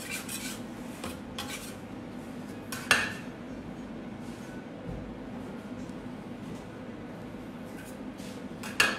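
Knife or cutter scraping through homemade pizza in a pan, slicing it into portions; scattered rasping strokes and light metallic clinks against the pan, with two sharper knocks, fairly close and without talk.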